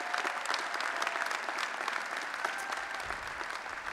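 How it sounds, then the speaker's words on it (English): A large crowd at a university spring commencement ceremony for bachelor's, master's and law graduates applauds steadily, a thick, continuous roar of clapping heard from within the audience, with no talk over it. "So give them a hand of applause as well."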